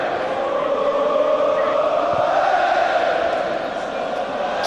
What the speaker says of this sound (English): Every pass applauded by the army of Celtic fans.